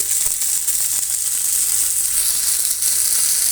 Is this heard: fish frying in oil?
yes